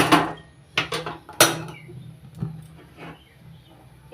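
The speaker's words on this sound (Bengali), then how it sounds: "রুটি সেঁকার নেটটা রেখে দিলাম।" A metal roti-toasting wire net is set down on a gas stove, giving a few sharp metallic clanks near the start, then light scraping and faint rattles with no talk.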